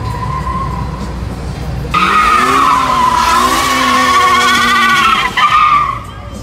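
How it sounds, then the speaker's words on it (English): Car tires squealing loudly as a driver burns rubber, a sustained high skidding screech with engine roar that starts abruptly and holds for several seconds before fading. "They're burning some rubber over here"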